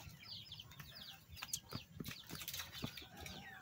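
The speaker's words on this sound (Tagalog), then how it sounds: "Marami kaming mga manok. Mga native manok." A flock of native chickens in a backyard cluck and chatter continuously, with several birds overlapping at moderate distance and scattered rustling.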